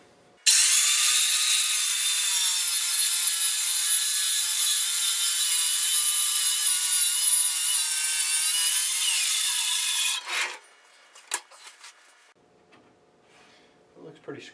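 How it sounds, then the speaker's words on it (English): A radial arm saw cuts through a wide wooden board for an arcade stick build, a loud steady rasping whine for about ten seconds that stops abruptly, followed by faint clatter and handling noises. "I'm going to cut it on the radial arm saw"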